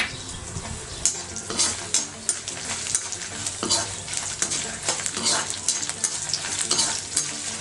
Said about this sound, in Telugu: మంచి అరోమా వచ్చేదాకా ఫ్రై చేసుకుందామండి. ఇప్పుడు వెల్లుల్లి రెబ్బలు, ఈ మిరియాలు కూడా వేసేసుకుందాం.